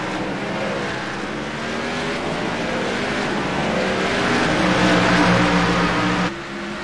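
Race cars roar along a track in a steady, loud engine drone that swells toward the end as they pass, then drops off abruptly, with no voices over it.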